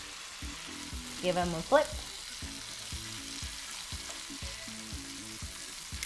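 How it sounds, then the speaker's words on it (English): Baked savory tofu fries in sesame oil in a pan with a steady low sizzle, broken by a few louder clatters as the pieces are flipped, and one brief spoken phrase over it. "it definitely has more flavor when you give it a little bit of a fry"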